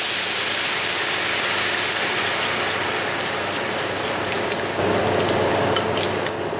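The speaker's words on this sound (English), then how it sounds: "Now it was time to add the wine. We add enough wine to cover the food." Red wine poured into a hot pan of frying testicles with bacon nearby, a loud, steady broadband sizzle filling the whole stretch and swelling briefly partway through, with no talking.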